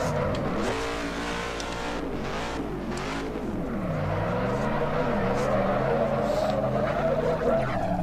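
A Dodge Charger driven in the racing game Assetto Corsa, its engine droning and revving up and down steadily throughout, with tire squeal and skidding layered in and an occasional voice beneath.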